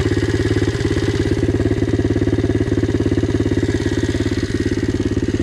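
A Loncin 110/125 motorcycle engine runs on a test before fitting a turbo, a steady, loud, fast-pulsing idle with a buzzy mechanical rattle that continues without a break.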